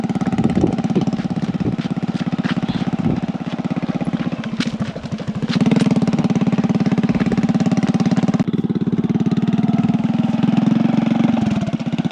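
A motorbike engine runs steadily throughout while being ridden along a forest trail, a loud continuous drone with shifting revs and rattles and no talking.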